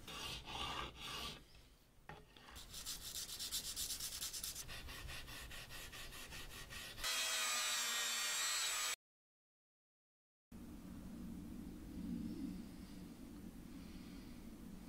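Guitar frets being crowned and polished on an olive and rosewood guitar, steady close rasping and rubbing strokes of a file and abrasive on metal, a brief loud burst, a short silent gap, then softer continuous rubbing.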